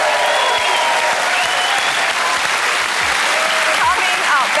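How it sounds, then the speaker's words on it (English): Studio audience at a television science show breaks into sustained, loud, dense applause, steady throughout with a few faint whoops mixed in. "may I ask for a huge round of applause for Romesh and Romesh's mum!"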